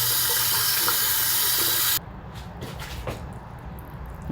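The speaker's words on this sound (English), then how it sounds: "Let's rinse it off properly." Tap water runs hard and steady into a sink while quinoa is rinsed, loud and close for two seconds before cutting off, leaving faint handling noises and small clinks.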